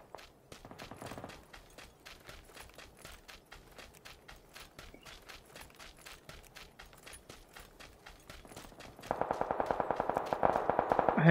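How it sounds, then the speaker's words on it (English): Rapid bursts of automatic gunfire crackle through a PlayerUnknown's Battlegrounds match, steady repeated shots throughout that grow louder and denser near the end, with no talking. "Gunfire already, and I ain't even got shoes."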